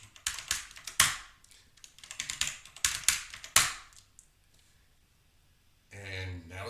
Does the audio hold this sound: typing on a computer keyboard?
yes